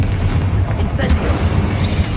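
A fire spell is cast in the Hogwarts Legacy video game, producing a deep booming rumble with a brief whooshing burst, heavy and continuous across the short clip.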